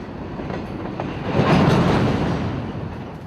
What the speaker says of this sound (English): these rusty old cars move out onto the main line